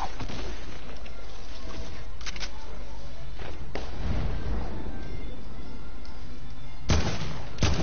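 AK rifle gunfire rings out in a video game, with several sharp, loud shots and bursts spaced apart over a constant bed of game ambience.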